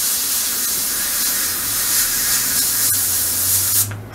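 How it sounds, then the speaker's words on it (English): An airbrush hisses steadily and loudly at close range while spraying camouflage paint onto a WW2 German Sd.Kfz.251 scale model, with a faint low hum beneath, cutting off abruptly at the end. "that airbrush is 3 to 5 millimeters from the surface"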